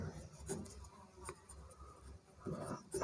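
Chalk or marker writing math on a board during a Class 12 integration lesson, a scratchy rubbing of short strokes close by, with no talking over it.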